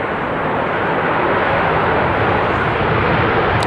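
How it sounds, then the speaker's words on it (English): An Airbus A330-200 lands at Manchester Airport, a loud, steady, broadband roar of engines and rushing air filling the whole moment up close, with no distinct touchdown thump standing out. "Softly putting the nose wheel down there"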